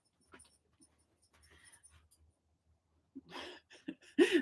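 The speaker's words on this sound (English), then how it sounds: "The dog." A dog in a quiet indoor room makes faint scattered whines and snuffles, then a few louder close bursts of panting and whimpering near the end.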